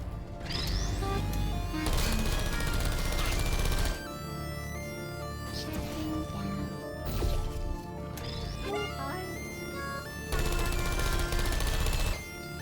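Automated turrets in the video game Portal 2 fire in long rapid bursts of machine-gun rattle, breaking off and resuming several times over a layer of game sounds and music, with no talking.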